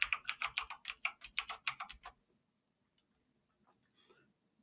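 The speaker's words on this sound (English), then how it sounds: "So I type in my sudo password." Rapid bursts of keystrokes on a computer keyboard, a crisp close clatter of about a dozen taps over two seconds, then near silence with a faint soft sound at the end.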